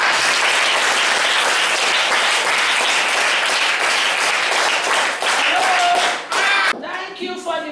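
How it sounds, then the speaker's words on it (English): Class Two schoolchildren clap together for Jennifer in a steady, dense burst of applause lasting several seconds, thinning out near the end as a voice cuts in. "Clap for Jennifer."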